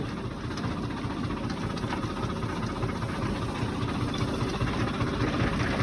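A steady, low tractor engine idles continuously on a farm with a rough, vibrating rumble, loud and close, with no voices over it.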